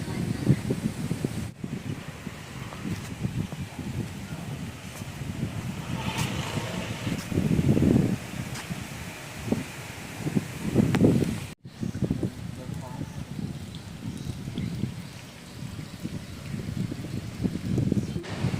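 Strong wind buffeting a microphone outdoors during a bicycle trip in rural Bangladesh before rain, a loud continuous low roar with gusts swelling around the middle, with a voice talking over it.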